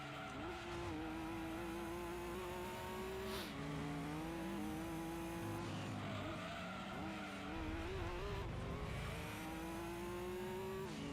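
A TVR race car in Gran Turismo 2 screams through revving engine tones with gear-shift dips and tire squeals, continuous and fairly quiet.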